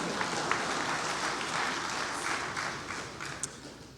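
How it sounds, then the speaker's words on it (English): An audience at an academic induction ceremony gives a steady round of applause, soft and somewhat distant, with a few sharper individual claps standing out. "Applause"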